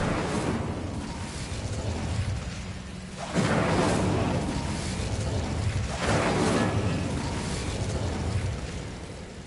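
Incendio fire spell cast in Hogwarts Legacy, two big roaring bursts of flame a few seconds apart, each swelling sharply and trailing off into a rumbling hiss, loud and full, with no talk.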